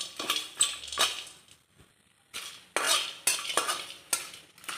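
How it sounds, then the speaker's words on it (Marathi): Whole spices dry roasting in a pan for a spicy mutton tripe fry, with a spoon scraping and clinking against the metal in repeated bursts of stirring, a short pause midway, close and fairly clear. "खमंग वास येईपर्यंत भाजून घ्यायचे"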